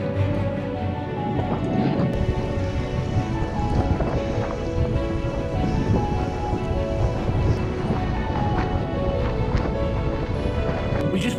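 Steady wind roars across snowy Roseberry Topping in a winter storm, a continuous loud rushing buffeting the microphone for the whole stretch with no voices.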